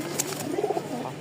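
Pigeons, including Tumbler, Benarasi Lotan and Giribaz birds, coo softly in a short low burbling phrase, close by against a faint steady background hum, with no talk.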